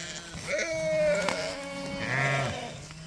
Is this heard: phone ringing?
no